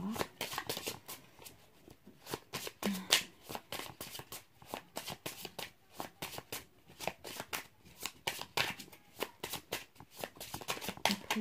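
Tarot cards are shuffled by hand in a long run of quick, crisp riffling bursts, close and fairly quiet, with no talk.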